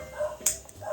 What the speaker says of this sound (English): my dog was barking too